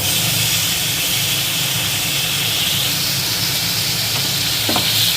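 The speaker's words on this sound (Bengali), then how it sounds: "পেঁয়াজটা একটু লাল লাল করে ভেজে নেব।" Chopped onions fry in hot oil until reddish for a Bengali prawn dish, a loud, steady hissing sizzle with faint stirring, close up and continuous, no voices.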